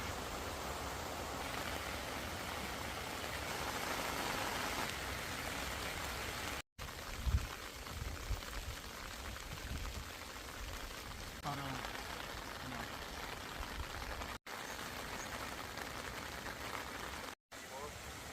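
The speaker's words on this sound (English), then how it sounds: "Oh, it's raining." Rain falls steadily on a campsite at Pha Kep Tawan during a rainfall warning, a dense, even hiss that runs the whole time, broken by a few brief thumps and short gaps.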